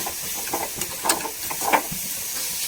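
Grated carrot and sugar sautéing in a pan for paal puttu: a light sizzle and hiss broken by a few short stirring scrapes.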